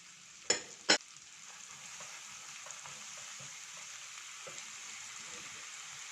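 Seasonings and oyster sauce stirred through tempeh in a hot frying pan, with two sharp utensil knocks at the start and then a steady sizzle and a soft scraping stir running beneath.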